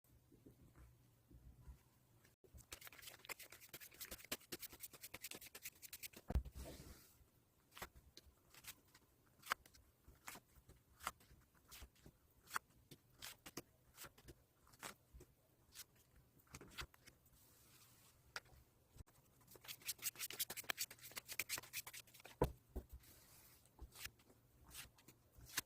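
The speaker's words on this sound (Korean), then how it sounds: "그럼 카드 셔플 진행해 보도록 하겠습니다." Soft tarot cards being shuffled by hand, quiet papery flicks and taps in irregular bursts with brief pauses between, close and faint in an otherwise still room.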